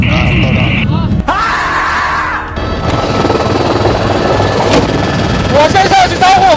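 A small aircraft in flight, its engine droning continuously while people talk and shout excitedly over it.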